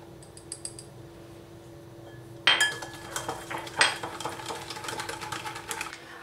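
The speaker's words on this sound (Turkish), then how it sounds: "Şöyle bir çırpıcı yardımıyla güzelce karıştırıyorum." Batter of milk and baking powder for a baklava-dough cheese börek is whisked in a bowl, giving rapid clinking and scraping that starts abruptly after a quiet lead-in and stays close and busy.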